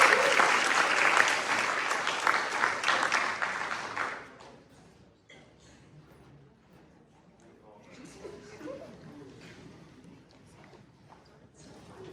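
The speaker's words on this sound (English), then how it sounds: "Can we get one more round of applause for this group of student athletes?" Audience applause for a group of student athletes at a high school senior awards ceremony, loud and sustained for about four seconds before dying away into faint room noise and murmuring.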